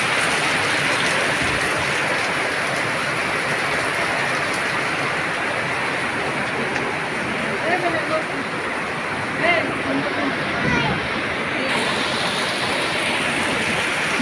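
Heavy rain pours steadily in a village during the monsoon, a loud dense hiss throughout with occasional faint voices under it.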